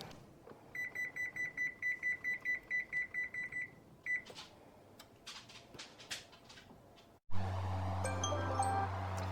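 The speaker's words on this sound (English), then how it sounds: "the 30-minute timer just went off for the chicken" A kitchen timer for oven-baked chicken wings gives a run of rapid, evenly spaced electronic beeps, fairly close, followed by clattering kitchen noises and then a steady low hum of an appliance.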